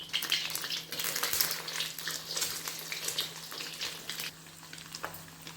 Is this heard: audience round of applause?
no